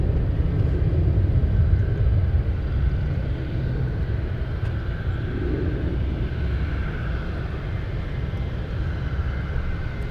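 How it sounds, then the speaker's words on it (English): An Air China cargo airplane flies past at Anchorage, a broad low roar of jet engines that is loudest at first and fades slightly to a steady distant rumble. "That's the ground speed for Air China. It is flying."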